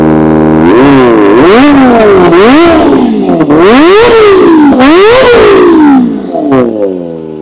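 A 2024 Kawasaki ZX-25R four-cylinder motorcycle engine with an SC Project exhaust revs hard several times, each rise climbing to a high whine and falling back, very loud and close, with no voices.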